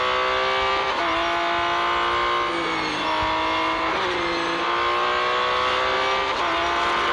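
A Porsche 911 engine in the Real Racing 3 video game drones loud and continuous, its pitch climbing and dropping with several gear shifts, with no talk over it.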